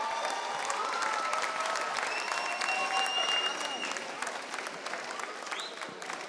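Sustained audience applause at a Georgian comedy show, a dense steady wash of many hands clapping that holds through and eases slightly toward the end, with faint tonal music and voices underneath.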